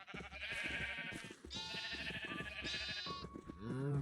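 Sheep in Minecraft bleat repeatedly in a rapid wavering series, fairly close and loud, with several overlapping calls and a lower bleat at the end.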